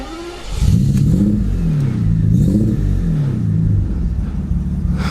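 A BMW 850i V12 engine catches and revs up close: a low rumbling start, then several rising and falling throttle blips with a deep, smooth growl, settling toward a steady idle.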